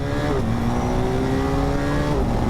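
A BMW HP2 Sport motorcycle pulling hard in first gear, its engine note loud and close, rising and holding as it accelerates under wind rush.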